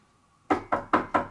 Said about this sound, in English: There's a knock,